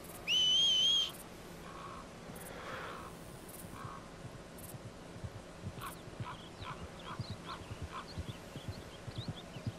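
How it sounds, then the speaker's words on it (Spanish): In the Western game Red Dead Redemption 2, a sharp two-tone whistle calls a horse. Soft hoofbeats follow and come closer, getting steadily louder in a light, even clip-clop against quiet outdoor ambience. "A ver, que venga el caballito."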